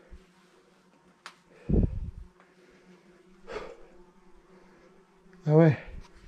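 Large bees buzz close by in a cave, droning louder as they pass the microphone, with a couple of low snort-like sounds between them.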